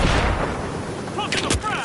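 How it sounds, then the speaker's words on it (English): A frag grenade explodes during a match of the shooter game The Finals, a short burst amid loud, busy gunfire and game noise, with a voice briefly heard. "Popping the frag!"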